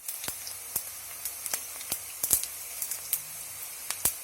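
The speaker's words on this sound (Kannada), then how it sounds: "ಇದಿಷ್ಟು ಚೆನ್ನಾಗಿ ಎಣ್ಣೆಯಲ್ಲಿ ಫ್ರೈ ಆಗಬೇಕು." Halved green chilies and ginger frying in hot oil for coconut rice, a quiet sizzle broken by scattered sharp pops and spits at irregular intervals.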